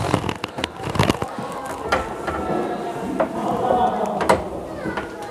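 Clunks, clicks and rattles from someone trying to open a locked door on a railway vehicle at the Hannover railway museum, a series of sharp close knocks over a hollow background.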